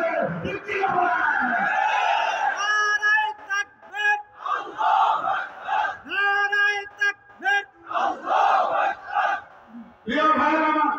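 At a mass rally in Gazipur, a large crowd roars 'Allahu Akbar' in loud, rhythmic bursts in answer to a takbir call, with the shouts separated by short pauses.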